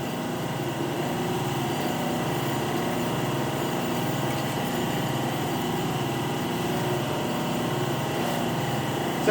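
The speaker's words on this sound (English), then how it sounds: "So at any rate, the motor's working." A 3 hp electric motor runs on a phase converter with a steady, even hum and whine that holds at a constant level throughout, with no talking.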